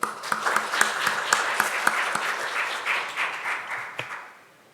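A symposium audience applauds to welcome the next speaker, a steady round of clapping with a few sharp individual claps standing out, tapering off toward the end.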